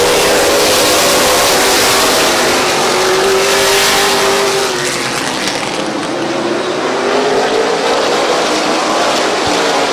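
Race cars at Midvale Speedway roar back to green-flag racing, several loud engines revving and accelerating together in a continuous, pitch-shifting drone close by.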